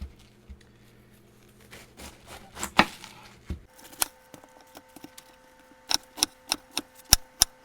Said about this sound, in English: Okay, so now I'm ready to cut up the cabbage.